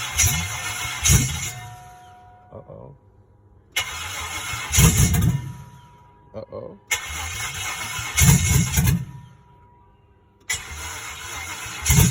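An old pickup truck that has not run in years, with a fuel pump problem, cranks on a first start attempt in four repeated grinding bursts separated by pauses, loud and close, with people talking at times.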